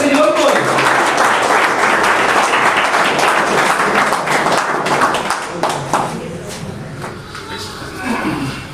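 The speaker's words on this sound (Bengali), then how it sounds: "হাততালি জোর কর।" Sustained audience applause at a training centre's anniversary award ceremony, a dense wash of many hands clapping steadily for about nine seconds before easing slightly near the end, with some crowd voices mixed in.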